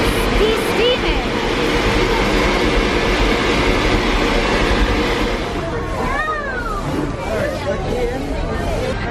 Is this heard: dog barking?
no